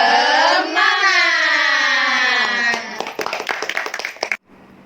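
An Indonesian chemistry class does a 'tepuk semangat' clapping chant. A drawn-out group shout gives way to a quick run of rhythmic, patterned hand claps that stop abruptly.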